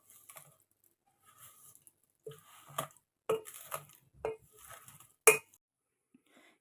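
A wooden dal churner mixes sugar, likely in a bowl of curd for lassi, with irregular scraping and knocking strokes: several separate crunchy clatters with quiet gaps between them, close by.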